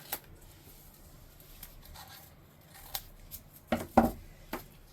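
Scissors cutting paper and tape for a journal, with a few sharp close snips and small handling clicks over quiet background, strongest near the end.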